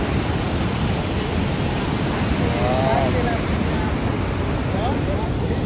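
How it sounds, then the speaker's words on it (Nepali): Water rushing through Mirmi dam on the Kaligandaki hydropower scheme, a steady, loud, broadband roar that fills the whole stretch without pause, with a faint voice briefly audible over it. "आवाज सुन्नुहोस् गाइस, आवाज। ओ माई गड, पानीको राफ।"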